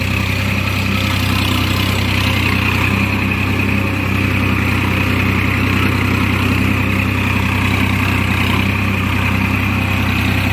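A diesel farm machine engine runs at a steady, loud idle-like drone close by, with a constant low rumble and no breaks, no voices.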